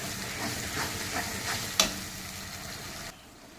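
Tomato paste fries with spices in hot oil in a pan, giving a steady close sizzle with stirring scrapes and one sharp clink near the middle; the sizzle softens as the heat drops at the end.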